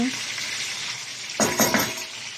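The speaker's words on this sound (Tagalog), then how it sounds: "I-fry ko lang siya ng kaunti" Ground pork or beef sizzles and crackles in hot cooking oil in a pan, a steady close fry with a few louder bursts as it is stirred near the end, no voices.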